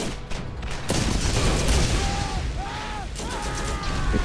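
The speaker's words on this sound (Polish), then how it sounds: "Wow, już wyrzutnia rakiet." Rocket launcher blasts and rapid gunfire from the video game Borderlands, a dense, loud barrage of bursts and booms with a few sweeping whistles of projectiles overhead.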